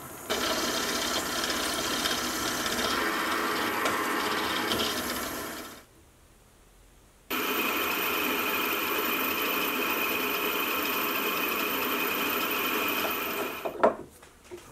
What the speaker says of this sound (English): I can now flip the block and bore out a hole on the bottom